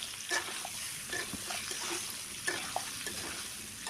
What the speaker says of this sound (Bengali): তার সঙ্গে দিলাম তেজপাতা আর শুকনো লঙ্কা।